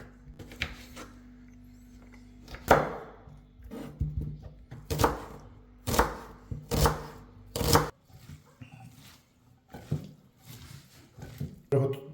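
A knife chops garlic by hand on a cutting board, delivering sharp close thuds in uneven bursts, sometimes several quick strokes together, with quiet pauses and a little talking in between.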